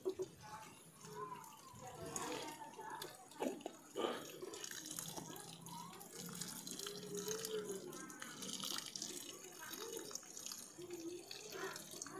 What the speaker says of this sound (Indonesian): Kita siram dengan organik yang sama ya.